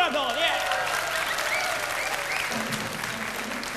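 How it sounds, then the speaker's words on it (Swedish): Loud, dense applause and crowd noise from a concert audience greeting a band on stage in 1984, steady for nearly four seconds with a voice calling out over it. "Stor applåd, yeah!"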